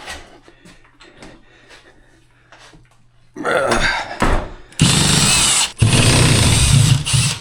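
A power driver backs screws out of bathroom cabinets during demolition, starting with faint clicks and handling noise, then loud close bursts of motor whine in three separate runs, each straining as a screw releases from the stud.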